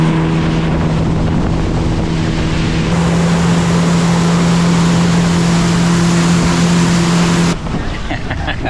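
Jet ski engines run loud and steady on the water off Luquillo Beach, Puerto Rico, a constant droning hum with wind buffeting the microphone, the pitch shifting as the throttle changes.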